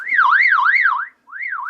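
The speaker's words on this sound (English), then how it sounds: "I got another alarm that goes off." Emergency alarm from a Radioddity GM-30 GMRS handheld radio, a loud rising and falling electronic siren wail sweeping in rapid cycles, cutting out briefly before starting again, heard alone.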